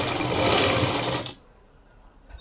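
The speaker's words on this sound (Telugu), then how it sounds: "అది చూసుకుంటూ కుట్టేసుకోవాలి. ఇలా నిదానంగా" Sewing machine stitching piping onto a blouse runs in a loud, steady burst for just over a second, then stops abruptly, leaving near-quiet with a faint click at the end.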